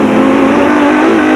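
A Jimco off-road race vehicle at the Mmabatho 500 desert race revs loudly and close, a steady high-pitched engine roar holding throughout with no voices.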